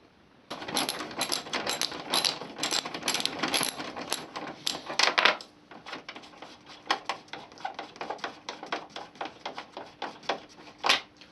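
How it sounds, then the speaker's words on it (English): A ratcheting tool backing out T30 Torx screws along the top of a Volkswagen Passat bumper: rapid clicking ratchet bursts close by, with short pauses between screws. "Remove these 4 T30 torx screws at the top of the bumper."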